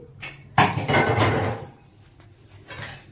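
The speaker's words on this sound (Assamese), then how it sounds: "এতিয়া এই কুকাৰটো ল'লোঁ" A pressure cooker is picked up and set down while ghugni is being made in a home kitchen, giving a sharp metallic clank followed by a short rattle and then fainter knocks.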